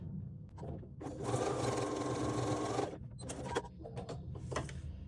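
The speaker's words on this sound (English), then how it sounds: "So I'm just going to do some stitching in the seam allowance over that." A sewing machine stitches through the seam allowance of a zippered waist pack, running as one steady, loud whirring burst of about a second and a half, followed by softer clicks and handling noises.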